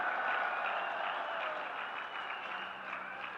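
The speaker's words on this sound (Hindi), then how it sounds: "मेरे नौजवानों, ताली बजाइए, आपका काम हो रहा है।" A crowd applauds during Prime Minister Narendra Modi's speech at a public event in Uttarakhand, a steady wash of many hands clapping, moderately distant and sustained throughout without anyone speaking over it.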